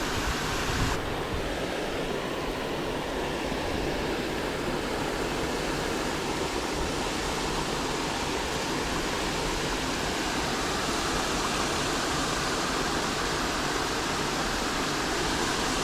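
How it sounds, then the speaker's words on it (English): A small, murky creek flows in a steady, broadband rush of water that holds at an even level throughout, with no voices. "I'm fishing right down in this little creek right here."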